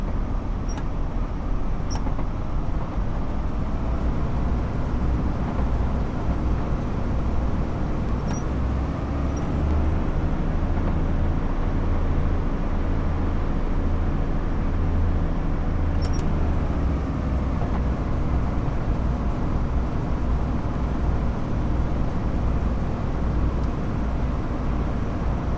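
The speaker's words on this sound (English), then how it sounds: "You can hear the exhaust pipes when going under a bridge or something." Steady low rumbling exhaust drone from a GWR Thames Valley train in Train Sim World 6, continuous and fairly loud with faint occasional clicks over it.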